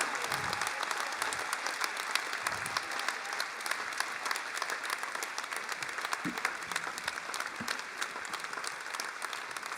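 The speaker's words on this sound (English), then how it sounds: "give these leaders of Barbados a round of applause" An audience at a leadership badge presentation ceremony in Barbados applauds its leaders with sustained, even clapping that fills the room from start to finish, with a few low bumps underneath.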